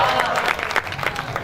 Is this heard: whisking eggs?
no